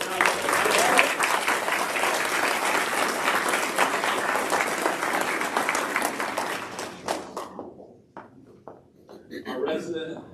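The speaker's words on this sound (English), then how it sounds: "Big round of applause for Palmetto." Loud, dense applause from a large crowd at a high school gathering, steady for about seven seconds before thinning into scattered claps and dying away, with a few later bursts of noise.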